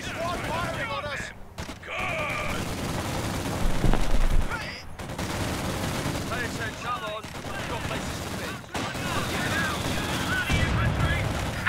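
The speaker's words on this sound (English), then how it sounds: "Enemy squad firing on us." Enemy squad gunfire in Company of Heroes 2 on Hill 400, sustained volleys of rifle and machine-gun fire over a loud battlefield wash, with voice lines heard in between.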